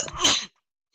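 A single sharp human sneeze, close and abrupt, followed by near silence.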